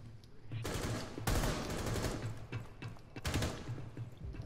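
Rapid automatic gunfire from a Rainbow Six Siege match, several loud bursts of shots in quick succession with short gaps between them and no talking.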